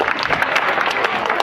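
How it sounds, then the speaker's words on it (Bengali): An audience at a high school annual function and prize distribution ceremony claps for a guest, a dense, even burst of applause from many hands. "ওনার জন্য তোমরা জোরে একটা হাততালি দেবে"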